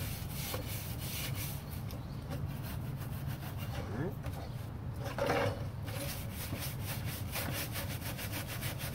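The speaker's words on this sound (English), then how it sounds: "then you can scrub a little harder with this if you want" Brush scrubbing the teak wood on a 1977 Boston Whaler 21 Outrage, a steady rasping back-and-forth scrape over continuous background noise, close and fairly even throughout.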